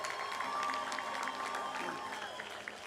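Rally crowd applauding and cheering for New York Public Advocate Tish James at a fast food wage board event, a sustained wash of clapping and voices with a high tonal hum running underneath.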